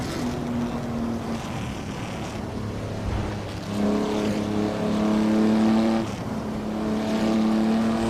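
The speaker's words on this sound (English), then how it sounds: "Oh, this Ferrari sounds so good though." Ferrari engine in the Assetto Corsa driving game on a Northern Pennines country road, a steady loud drone with rising and falling revs and harmonic whine as the car accelerates, no talking.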